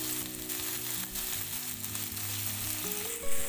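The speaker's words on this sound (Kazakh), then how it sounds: "Мен бірінші пиязымды қуырып алдым, артынан болгар бұрышын салдым, шамалы қызанақ, сарымсақ салып қуырып алдым." Onion, bell pepper, tomato and garlic fry in a pan for noodle soup, a steady close sizzle with a faint low hum underneath and a brief stirring bump near the end.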